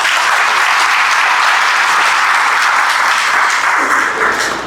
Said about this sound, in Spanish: Denle un aplauso para Cristo.